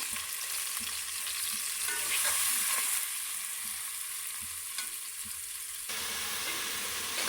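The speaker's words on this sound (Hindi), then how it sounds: "साथ ही डाल देते हैं हरी मिर्च ताकि वो भी थोड़ी सी फ्राई हो जाए, और नमक। इसको ज़रा सा भून लें।" Green chillies and salt fry in a pan of hot oil for kari pakora, giving a steady, dense sizzle and crackle that runs unbroken from start to finish with no voices over it.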